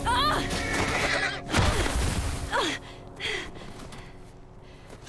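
A horse in the video game The Last of Us whinnies loudly with snorting breaths and gasps, a dramatic close neigh followed by quieter huffs.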